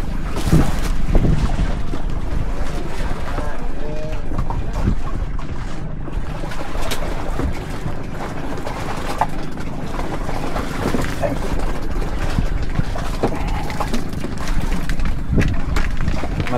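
Strong wind roars across the open sea at Fort Drum island during boat fishing, buffeting the microphone loudly and constantly, with water slapping against the hull beneath it.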